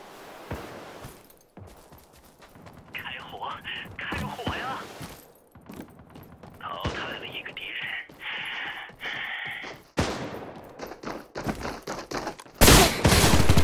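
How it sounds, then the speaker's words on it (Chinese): Gunfire from Apex Legends Mobile in bursts of rapid shots mixed with mechanical clicks and thuds, moderately loud, with a sharp loud blast near the end. "开火，开火呀！"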